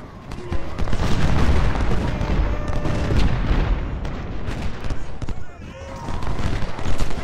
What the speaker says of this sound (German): Schießen, schießen, schießen.